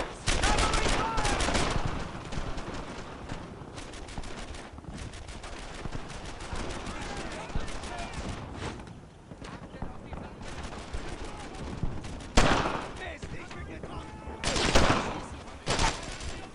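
Dense, sustained gunfire from a World War II Normandy firefight in Brothers in Arms, with rapid overlapping rifle and machine-gun bursts and loud close shots near the end, under occasional shouted voices.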